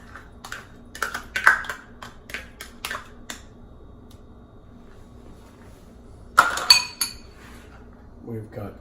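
A spoon clinks against a bowl while mayonnaise goes in for a quick tartar sauce, with several sharp metallic taps in a row and another cluster later, close and moderately loud over a quiet room.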